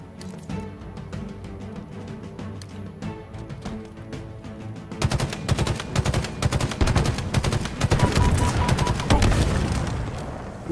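Rapid bursts of gunfire from the Halo Infinite video game, with sparser shots at first and then a louder, denser stretch of continuous automatic fire in the second half, with no talking.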